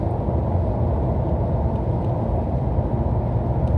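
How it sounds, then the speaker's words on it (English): Steady low engine rumble and road noise from inside a moving car, continuous and even throughout with no talking. "Gotta be careful because I'm driving"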